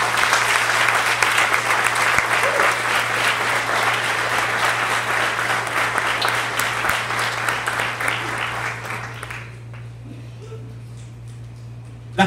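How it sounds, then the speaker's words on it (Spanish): Congregation at a church service clapping loudly and continuously for about nine seconds, a dense crowd applause that then drops off abruptly, leaving a quiet room with a low steady hum beneath. "Dale un aplauso al Rey."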